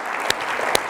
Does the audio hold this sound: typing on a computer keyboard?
no